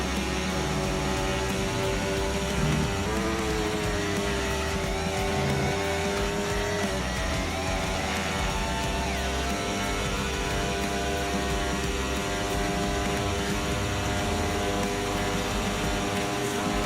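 A McLaren race car in a racing video game, racing at Spa, heard from the cockpit: a steady, loud engine howl holds a high pitch for the whole stretch, dipping briefly with gear shifts, with no talk over it.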